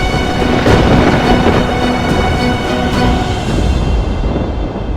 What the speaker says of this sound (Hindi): कैलाश गरज रहा है महादेव।